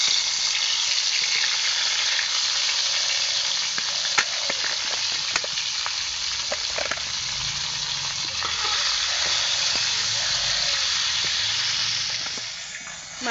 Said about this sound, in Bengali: তেল গরম হয়ে গেছে, এবার একে একে মাছগুলো ভেজে নেব।